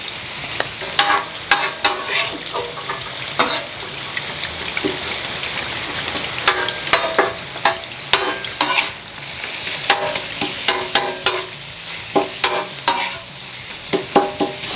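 Fresh sliced ribeye fries in oil on a flat griddle for a cheesesteak, a steady sizzle broken by frequent loud scraping and clacking of a spatula chopping and stirring the meat, close up with no voices.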